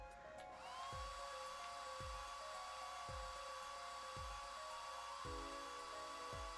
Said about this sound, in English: Just press A to blast it with that dryer.